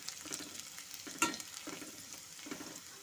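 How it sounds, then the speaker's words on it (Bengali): Chopped garlic fries gently in oil for mushroom 65, giving a low crackling sizzle broken by soft stirring scrapes and one sharp clink. "রসুনটা দিয়েও একটু হালকা করে একটু ভাজা ভাজা করে নেব"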